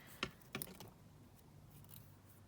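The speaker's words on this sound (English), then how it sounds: "Just trim that down." Scissors snip through cardboard for an art journal page, giving two crisp close cuts early on followed by quieter rustling handling in a quiet room.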